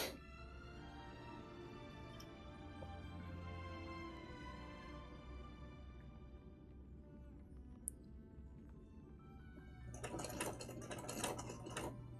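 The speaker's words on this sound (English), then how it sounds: "Focus on the hot, intense sewing." Sewing machine stitching a Welt cosplay from Honkai Star Rail, running in a steady continuous whir with a sharper, rapid clattering burst near the end, close and alone without talk.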